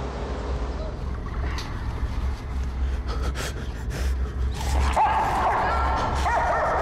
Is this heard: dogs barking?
yes